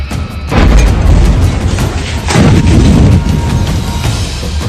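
A deep, rumbling explosion boom in a war attack in Ukraine rolls out loud and sustained, followed by a second heavy surge of low rumble.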